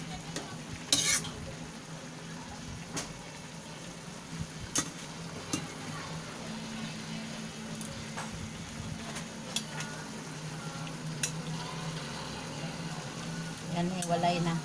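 Pancit bihon noodles being stir-fried and flipped in a pan give a soft, steady sizzle with scattered sharp utensil clacks against the pan; fairly faint and close, with speech mixed in.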